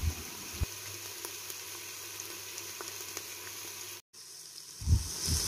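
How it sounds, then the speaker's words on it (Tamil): Whole spices including bay leaf, cinnamon, cloves and cardamom sizzle steadily in hot ghee, a soft continuous frying hiss with a few brief clinks and a louder stir near the end. "நெய் சூடான பிறகு பிரியாணி இலை பட்டை கிராம்பு ஏலக்காய் சேர்த்து வதக்கிக்கங்க"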